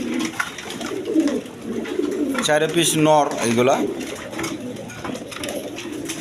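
Pigeons for sale, including black males and a Chinese owl pigeon, coo close by in a pen, a low rolling coo standing out midway while someone talks over them throughout.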